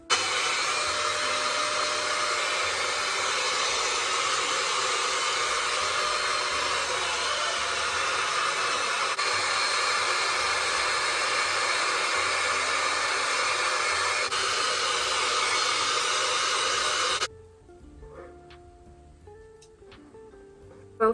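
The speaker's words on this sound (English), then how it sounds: "Both sides dried my hair." A Dyson dupe hair dryer runs on its warm setting while drying hair, giving a steady, loud, close whoosh that holds unbroken for about seventeen seconds, then cuts off abruptly, leaving only faint handling noises.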